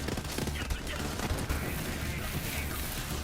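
Sustained rapid gunfire from the Borderlands 3 video game, a dense continuous barrage of shots with a FL4K pet build, loud and unbroken throughout with busy game effects layered underneath.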